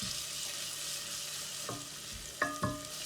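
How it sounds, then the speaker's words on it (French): A wooden spoon stirs and mashes garlic purée in a pot, making a soft continuous sizzle and scraping. Two distinct knocks of the spoon come near the end. "N'hésitez pas à l'écraser avec la cuillère en bois ou la spatule."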